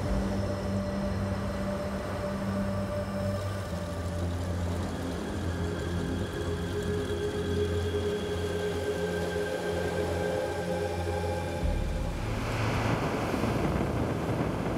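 Strong, severe wind gusting on the Skeleton Coast, a constant broadband roar buffeting the microphone with surf-like rushing, loud and close throughout, with no voices.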